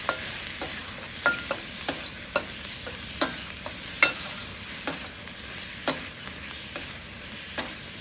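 Tomatoes stir-fry in oil in a Cuisinart outdoor wok, a constant loud sizzle punctuated by regular sharp scrapes and taps of the spatula against the metal.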